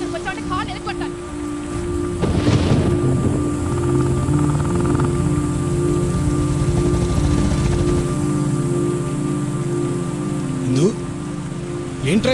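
Rain pours down outdoors as a steady, dense hiss filling the whole stretch, with a few brief louder sounds mixed into the background.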